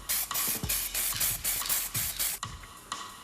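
Spray paint hissing onto an engine block as a silver coat goes on, in repeated short bursts about a third of a second each, close and loud, with no talking.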